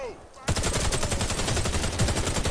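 Rapid automatic AK rifle fire in a video game bursts in after a brief quiet moment and keeps rattling loudly and steadily to the end, with a voice faintly underneath.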